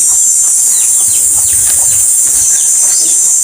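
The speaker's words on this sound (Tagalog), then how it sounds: "may manok pa, oh" Chickens with chicks along a rural dirt path shared by carabao give faint, scattered clucks and peeps over a steady high hiss of outdoor background noise, with no talking.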